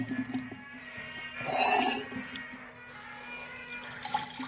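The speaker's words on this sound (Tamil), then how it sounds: "இதுக்கப்புறம் அப்படியே மிக்ஸ் பண்ணி ஒரு தடவை ஃபில்ட்ரு பண்ணி இப்படியே ஆற்றிட வேண்டியதான்." Amla (gooseberry) juice poured back and forth between vessels to cool and mix, a steady watery pour rising to a louder splashing stream midway, with light metallic clinks and a low hum in the background.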